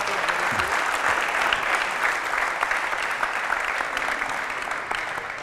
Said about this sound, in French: ah on peut applaudir l'équipe que je viens d'entraîner